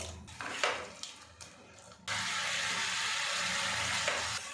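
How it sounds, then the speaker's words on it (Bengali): Water is poured into a pan of spice masala with red chili powder and salt, a continuous gushing pour starting after some faint kitchen clatter and running steadily to the end. "এবারে এর মধ্যে জল দিয়ে কষিয়ে নেব।"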